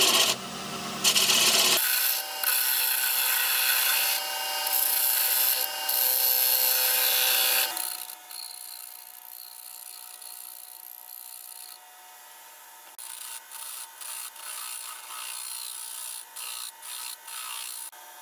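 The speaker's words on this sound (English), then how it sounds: "Just use a spindle gouge and remove a bit." A spindle gouge cuts wood on a lathe while turning a butter dish, first a loud steady rasping shave, then quieter stretches and short rhythmic bursts of cutting against the spinning workpiece.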